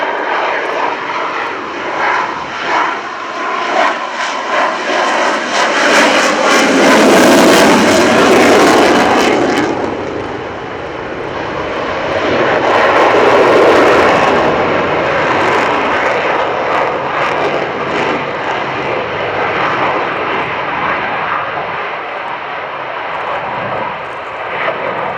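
A display aircraft at the RIAT 2016 airshow at Fairford pulls through a minimum radius turn, its engine roaring in two strong surges that rise, fall and return, loud and close, with no talking over it.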